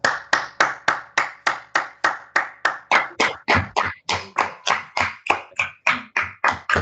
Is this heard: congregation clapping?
yes